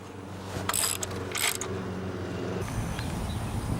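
A ratchet wrench tightens bolts fastening a channel, giving short bursts of rapid clicking near the start, followed by a lower mechanical rattle and hum, close by with no speech.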